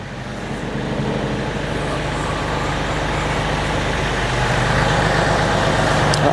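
A tractor idles and creeps on a smooth concrete floor to shift an attached implement into place, its engine a steady, close, continuous rumble that rises slightly toward the end.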